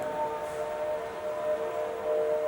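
Islamic prayer calls drift across Marrakech, Morocco, a faint distant sustained wailing chant over soft city background.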